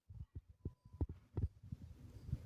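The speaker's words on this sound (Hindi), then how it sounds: "आसी के दिल की धड़कनें तेज हो गईं।" Racing heartbeat sound effect in a dramatised story, low thumping beats in quick succession, pulsing steadily and alone over a faint hum.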